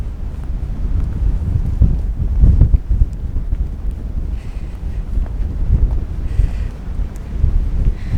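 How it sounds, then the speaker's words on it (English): Steady, heavy wind on the King's Seat hilltop near Dunkeld, Scotland, buffets the microphone with a deep continuous rumble, gusting louder at times, close and loud with no voices. "It's rather windy up here."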